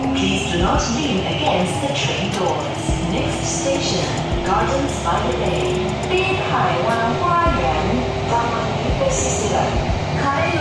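Steady rumble of a moving train carriage heading to Gardens by the Bay, with low mechanical hum and rattling, and people talking throughout.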